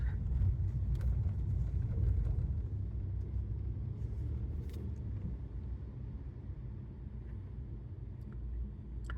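A car drives along streets in Italy, heard from inside as a steady low engine and road rumble with light wind noise, continuous and fairly even throughout.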